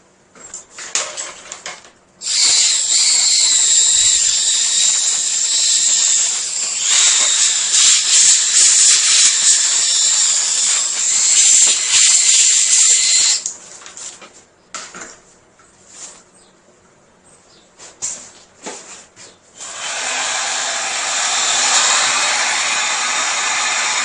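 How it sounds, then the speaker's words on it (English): A heat gun blows hot air onto plastic being shaped for mixed media art, giving a loud, steady airy roar. It runs for about ten seconds, cuts out, sputters in brief bursts, then returns more softly near the end. "Let's go ahead and hit that with the heat gun a little bit."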